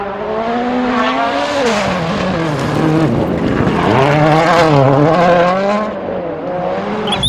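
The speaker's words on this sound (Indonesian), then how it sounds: "Di sini ada mobil balap," A race car engine roars loudly and continuously, its pitch sweeping up and down as it revs and accelerates, with no voices.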